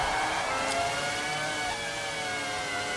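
A Formula 1 race car engine from a video game hums steadily in a continuous, fairly loud drone, chasing close behind at the Japanese Grand Prix with a McLaren in the field, no voices over it.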